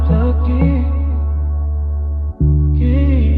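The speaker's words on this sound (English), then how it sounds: "I wanted to add some synth accents" Synth accent notes reshaped by a formant shift, flanger and delay, layered into an R&B sample with a low sustained bass, bright tones starting and stopping, and a brief dropout partway through.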